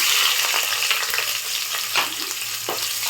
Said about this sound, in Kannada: ಒಂದು ಮೀಡಿಯಮ್ ಸೈಜ್ ಈರುಳ್ಳಿನ ಹಾಕ್ಕೊಳ್ತಾ ಇದ್ದೀನಿ